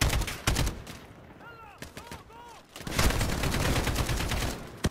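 Rapid gunfire bursts in the Call of Duty Modern Warfare video game, loud dense volleys opening and closing the stretch with a quieter gap in between where a voice with rising tones talks.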